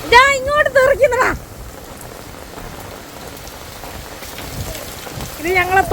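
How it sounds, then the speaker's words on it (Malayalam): Stream water pours out of a pipe in a steady, rushing splash that fills the middle of the clip, with people talking over it at the start and end. "ഇത് ഞങ്ങളെ തോട്ടിൽ കൂടെ ഒഴുകി പോകുന്ന വെള്ളം പൈപ്പിൽ കൂടെ വരുന്നതാ"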